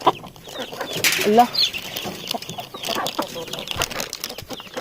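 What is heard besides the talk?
chickens clucking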